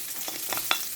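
Onions added to a little cooking oil and sautéing, a close, soft sizzle punctuated by three quick stirring scrapes in the pan, brief and without any talking.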